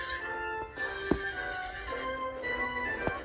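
A horse whinnies in a long, shrill, wavering call, followed by a second neigh.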